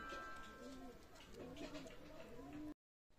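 Golalal generation pigeons coo in low, rolling murmurs through most of the clip, under steady background noise, before a brief drop to silence near the end.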